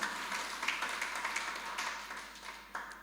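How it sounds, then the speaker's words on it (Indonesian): Church congregation clapping for God during a worship service, a steady wash of many hands applauding throughout, moderately loud with a few sharper bursts. "Kasih tepuk tangan bagi Tuhan."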